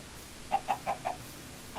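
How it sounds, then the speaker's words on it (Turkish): A Minecraft chicken clucks four times in a quick, evenly spaced series, faint and close, over a quiet background hiss with no talking. "Tavuk."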